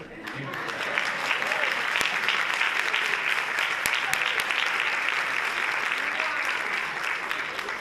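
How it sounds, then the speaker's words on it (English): A council-meeting audience applauds a school board member, a dense, even burst of many hands clapping that holds steady throughout, punctuated by a few sharp single claps. "Listen, I'll let you guys clap for her."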